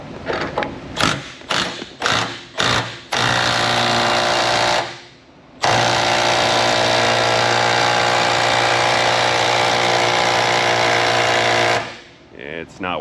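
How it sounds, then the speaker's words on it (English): Pneumatic impact gun driving a socket onto a torsion bar adjustment key on a 4X4 truck, first in several short hammering bursts, then one long sustained rattling run, close and loud, with brief talk at the end. "Impact gun back on."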